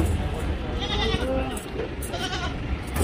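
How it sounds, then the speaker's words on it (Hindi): A Beetal goat bleats among goats being checked as cargo, its short wavering cry rising over a noisy outdoor crowd with people talking throughout. "ये देखें जी, ये बकरा है और इसमें बीतल बकरा भी होगा"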